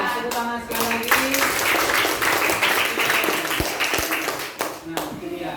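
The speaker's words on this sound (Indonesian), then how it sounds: "Tepuk tangan sekali lagi." A classroom group claps together during a lesson, a dense burst of applause that fades and breaks into a few scattered claps, with voices underneath.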